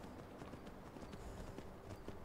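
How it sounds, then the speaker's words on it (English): Quiet, steady clip-clop of horse hooves while riding through snow at night in Skyrim, a continuous even trot under a soft background wash. "Yeah, got the lantern, riding along on the horse."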